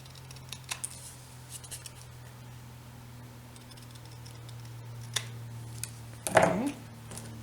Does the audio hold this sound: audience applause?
no